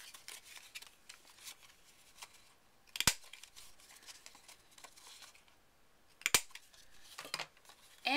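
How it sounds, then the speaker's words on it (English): A corner rounder punches the corners of a paper card, two faint sharp clicks spaced a few seconds apart amid soft rustling and handling noise. "now I'm going to round the corners of my card on the bottom"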